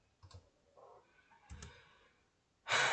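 A few sharp computer keyboard key presses click near and alone, followed by a loud burst of broadband noise at the end.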